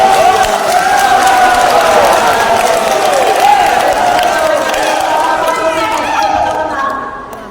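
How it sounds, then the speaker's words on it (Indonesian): Lively applause and crowd noise rise in a hall during a public debate between deputy regent candidates of Gayo Lues, steady and loud with tonal voices or music carried over it before tapering off at the end. "Berikan tepuk tangan yang meriah."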